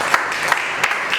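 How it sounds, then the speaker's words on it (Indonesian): Classmates clap for a student in a classroom, a faint, thin patter of applause with a few sharper claps standing out over the brief stretch. "tepuk tangan buat Angelin."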